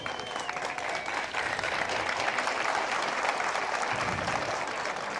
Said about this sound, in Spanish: el aplauso es para Cristo